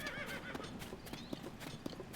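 A horse approaches in the video game The Legend of Zelda: Tears of the Kingdom, with steady clip-clopping hooves, a brief whinny and ambient game sounds underneath.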